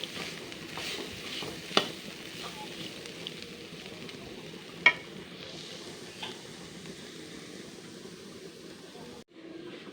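Bitter gourd frying in a karahi without turmeric, a soft steady sizzle with occasional stirring scrapes and a couple of sharp clinks of the utensil against the pan.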